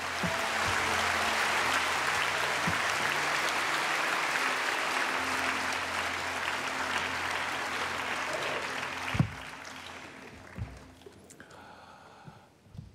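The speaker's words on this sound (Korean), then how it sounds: "환영하는 박수를 함께 드리시겠습니다" A church congregation at a Korean church service claps steadily to welcome a pastor, a dense, sustained round of applause that fades out near the end as the room quiets.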